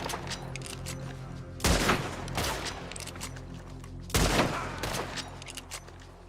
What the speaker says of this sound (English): Oh yeah, he's shooting at us.